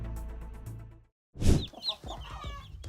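A mother hen clucks in short, agitated bursts close by, loud after a brief pause, with farmyard noise before it.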